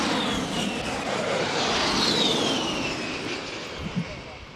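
An A-10 Warthog jet flying at a NAS Oceana air show, a loud sustained engine roar with a sweeping pitch as it passes, under a public-address announcer's voice.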